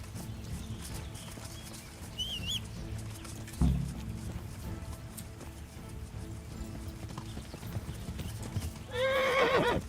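A horse in Kingdom Come: Deliverance clip-clops steadily over the ground, with a short whinny early on and a louder, shakier neigh near the end. A thump interrupts the hoofbeats midway.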